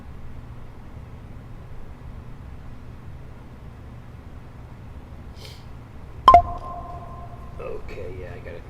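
A phone rings indoors during a flight simulator session: after a low steady hum, a sharp click is followed by a clear electronic ring tone lasting about a second, then a few softer chirping tones.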